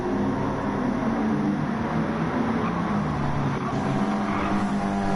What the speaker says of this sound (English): Six cars battling for the final podium position.